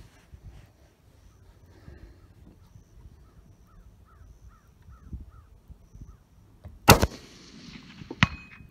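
A custom 7mm RSAUM rifle fires two sharp, loud cracks a little over a second apart, standing out against quiet outdoor ambience with crows cawing in the background.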